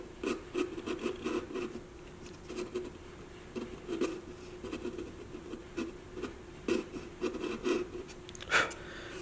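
A violin's edge bevel is worked by hand around the top and back, giving a run of quick, rhythmic scraping and rasping strokes on wood, close and fairly quiet, with brief pauses between bursts.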